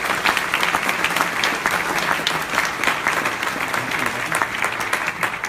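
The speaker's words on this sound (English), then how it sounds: "So please, let's give a round of applause to all of them." Audience applause at an international translators' congress award ceremony, dense and continuous clapping from a large crowd that stays loud throughout, with no pauses.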